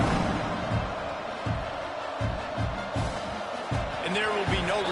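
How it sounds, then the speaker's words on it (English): A stadium crowd buzzing in the College Football 26 video game after a score, a steady loud roar throughout with a commentator talking over it. "this crowd is buzzing after that last score"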